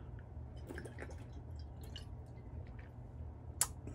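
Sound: pouring Mountain Valley Spring Water from glass bottle

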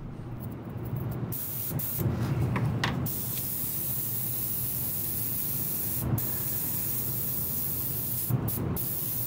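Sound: airbrush spraying primer on model ship

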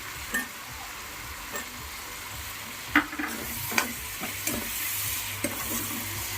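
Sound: potato pieces frying in a pan

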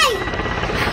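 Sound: helicopter flying nearby

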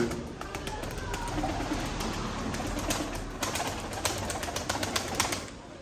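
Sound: birds, pigeons, in a loft

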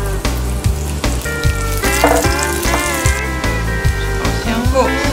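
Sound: garlic frying in a wok

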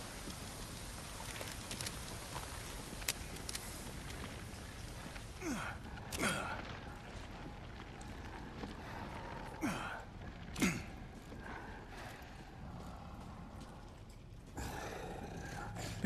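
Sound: hidden creature breathing in Resident Evil Village video game

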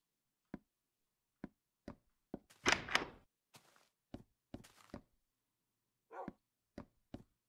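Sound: dog barking in a video game

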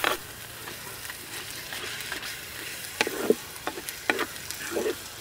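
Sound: spinach paste being stirred and fried in a pan

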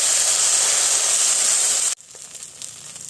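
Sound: water from rinsing spice plate poured into hot pan

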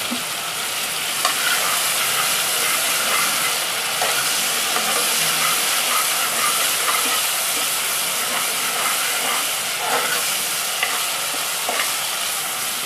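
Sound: garlic roasting and being stirred in a pan for mutton achari

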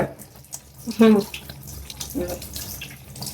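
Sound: tap water washing Kadaknath chicken meat

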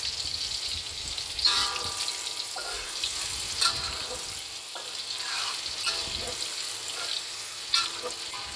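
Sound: onions being stir-fried (sautéed) in a pan

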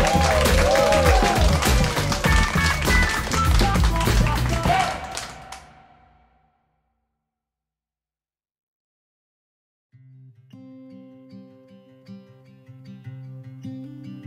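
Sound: wedding guests applauding the couple

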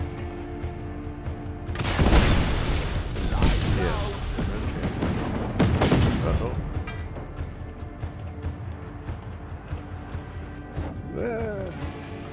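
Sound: gunfire in video game Just Cause 3

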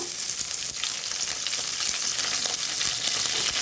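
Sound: cauliflower and cabbage leaves frying in a pan with garlic

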